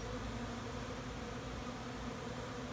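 Honeybees at an open backyard beehive give off a soft, steady drone, a continuous low buzz heard close but faint, with no voices.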